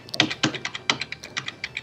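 A computer keyboard typed on fast and hard, a rapid uneven run of sharp clacky keystrokes, close and alone without speech.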